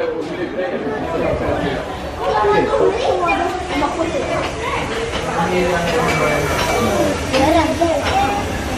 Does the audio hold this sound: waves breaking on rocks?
no